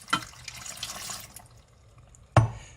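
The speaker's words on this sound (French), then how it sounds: "Et je rajoute donc un verre d'eau." Water poured from a glass into smoothie ingredients with lemon in a blender jar: a brief splashy trickle near the start, a lull, then a short loud splash near the end, no talking.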